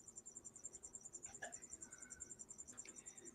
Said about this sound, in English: There's lots of crickets in my room, so unfortunately, you got to listen to my ambiance